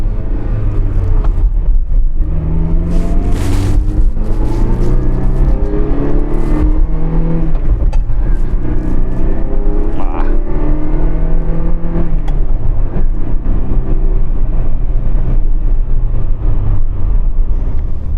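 A Ferrari 328 with its engine mounted mid-rear, driving steadily; loud, continuous engine drone with shifting pitch as revs rise and fall, close up and with no talk.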